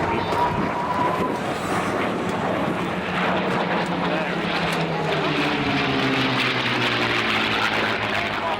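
Spitfire LH434 aircraft engine droning steadily and loudly at an air show, with a sustained broadband roar and shifting pitch, heard under a talking voice.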